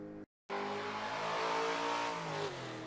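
The engine of a 1970 Dodge Coronet Superbee in the Forza 7 racing game roars loudly after a brief gap of silence, holding a steady, rising drone close up with no voices.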